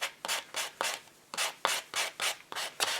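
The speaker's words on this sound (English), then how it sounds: "regular sanding block. This has 4 sides." Sanding block with four sides of differing grit rubbed over a 3D-printed plastic stamp corner, making about nine rhythmic, close back-and-forth rasping strokes, each a short scratchy burst with brief pauses between.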